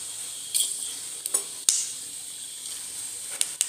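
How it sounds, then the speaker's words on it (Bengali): Whole garam masala and cumin sizzle in a hot pan: a soft, steady hiss with a few sharp crackling pops scattered through, fairly quiet and with no voices. "এবারে কড়াতে প্রথমে গোটা গরম মশলা, গোটা জিরে,"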